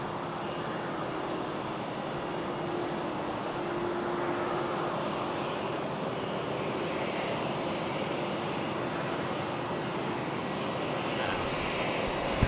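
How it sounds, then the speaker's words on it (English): A Qantas Airbus A330-200 airliner taxiing at Sydney Airport gives off a steady, distant jet engine rumble and whine that holds level and unbroken the whole time. "Qantas 81 also now on the taxi, Sydney to Singapore. It's the A330-200."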